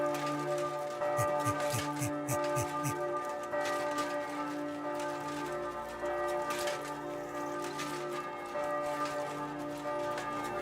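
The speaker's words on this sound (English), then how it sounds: "church bells were not to be fucked with back then, were they?" Church bells ring out loudly in the video game Kingdom Come: Deliverance II, their resonant tolling layered over a busy background with some faint talk.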